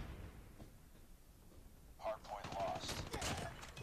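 Gunfire in the mobile game Call of Duty Mobile: after a quieter stretch of game ambience, a sharp shot hits, then a rapid burst of automatic fire crackles near and loud to the end.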